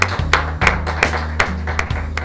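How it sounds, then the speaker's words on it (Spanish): Sparse clapping from a small group, distinct sharp claps landing in a loose, fairly regular rhythm over a low steady hum, fairly close and moderately loud. "Pido un gran aplauso para él"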